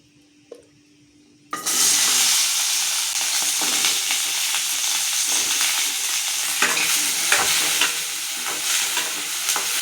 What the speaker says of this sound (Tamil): இவ்வளோ தூரம் தண்ணி நல்லா வத்துற மாதிரி நம்ம வதக்கலாம்